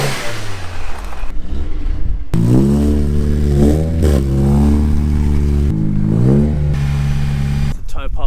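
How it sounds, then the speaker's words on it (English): An Audi TT with a dead battery, jump leads attached, cranks and catches, then its engine revs up and down in loud close surges with a settling idle between, while people talk over it. "Let's get the TT started up."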